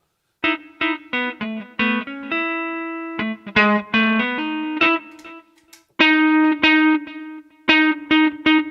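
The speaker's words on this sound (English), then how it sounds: "got some authentic guitar tones" A distorted guitar-like tone runs through an external effects unit, playing loud, sharply plucked phrases with sustained notes, clean stops and brief pauses between runs.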